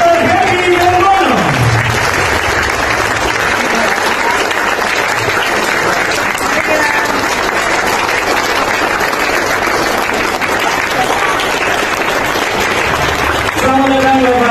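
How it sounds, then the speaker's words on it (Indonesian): Loud, sustained audience applause greets Dr. Happy Trenggono as he is welcomed at a seminar on wealth mentality and cashflow, with dense clapping filling the whole stretch and a brief voice near the start and end. "Tepuk tangan yang meriah untuk Bapak Dr. Happy Trenggono."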